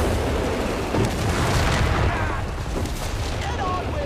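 Mortar explosions in the WWII strategy game Company of Heroes 3 rumble as heavy, continuous booms that blend into a loud, dense wash of battle noise.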